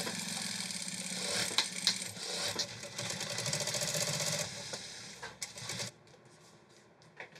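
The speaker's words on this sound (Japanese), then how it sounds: "次に縫製ミシンを使い職人が全ての商品を丁寧に一つ一つ縫い合わせています" An industrial sewing machine in a Kyoto workshop stitches fabric for a gamaguchi clasp purse, giving a busy mechanical whir with rapid clicks and rattles that runs for several seconds, then stops, leaving sparse ticks.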